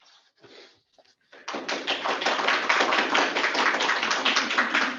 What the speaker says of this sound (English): They're clapping at me.